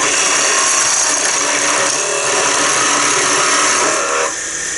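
A George Hatfield rod scraper cuts a slight taper on wood spinning on a lathe, making a loud, close, continuous rough scraping hiss that stops abruptly near the end.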